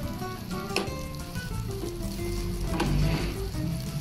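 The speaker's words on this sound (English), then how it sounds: "Add your angel hair pasta into your sauce" Angel hair pasta being tossed into a sizzling chicken and tomato sauce in a pan, with a constant loud hiss of frying, a few light utensil clinks, and the sizzle swelling briefly toward the end.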